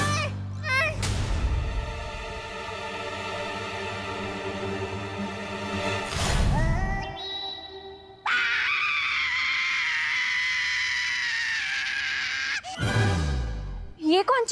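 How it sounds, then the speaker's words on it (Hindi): A sudden loud scream rings out in a comic fantasy scene, rising and sustained for several seconds amid bursts of talk and other harsh vocal cries, then cutting off abruptly. "ये कौन चीखा?"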